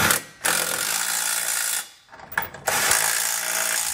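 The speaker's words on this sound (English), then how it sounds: "we can use a 19 millimeter socket to snug everything down" A ratchet with a 19 millimeter socket snugs down bolts on a Curt trailer hitch being fitted to a 2020 Nissan Rogue, giving rapid clicking bursts close by, broken by two brief pauses.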